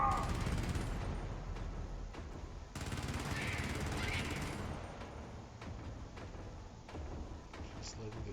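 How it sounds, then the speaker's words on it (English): An automated turret in the video game Helldivers fires in fast sustained bursts, loud and continuous over several seconds amid other battle noise, with speech present. "Just letting the turret do its thing."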